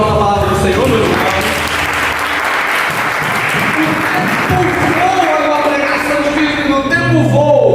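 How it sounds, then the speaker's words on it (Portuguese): Church congregation applauding after a scripture reading at a Portuguese-language service, loud dense clapping filling the room with a voice or music tones running underneath. "Dá uma salva de palmas na palavra do Senhor"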